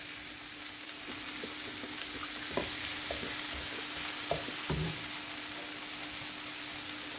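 Cabbage and egg stir fry sizzles softly in a pan as a spoon stirs it, with a few scraping knocks standing out over the steady frying hiss and no talk.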